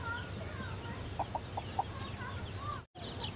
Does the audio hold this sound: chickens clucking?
yes